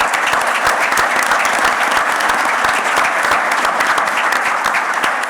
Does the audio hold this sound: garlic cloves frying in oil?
no